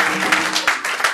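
A church congregation claps in praise to God, the steady burst of applause filling the room with a few sharper peaks and no talking.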